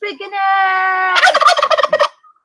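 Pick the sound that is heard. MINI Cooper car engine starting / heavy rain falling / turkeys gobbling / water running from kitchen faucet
turkeys gobbling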